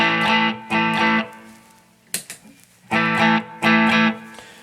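Electric guitar through a Caline CP-12 Pure Sky overdrive pedal, chords played in short loud, distorted bursts, with a brief pause and scrape in the middle before two more strums.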